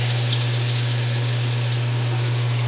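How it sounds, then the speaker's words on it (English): Rock cod fish frying in a pan, a steady close sizzle with fine crackling spread across the whole stretch, continuous and even with a low steady hum underneath and no talking. "so those are on their way of frying."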